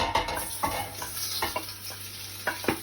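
Baby spinach drops into a small hot pan, a soft sizzle under a few distinct spoon-and-pan clinks and stirring knocks, close up with no voices.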